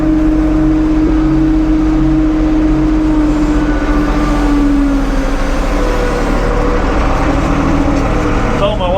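A 1975 Case 550 backhoe engine droning loud and close as it shifts into second gear, a steady diesel rumble with a changing whine as the gear engages.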